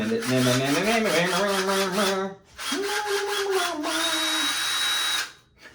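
A cheap cordless 18-volt lithium-battery drill whirs loudly and close, running in two long bursts with a short pause between, its pitch rising and falling as speed changes before it spins down.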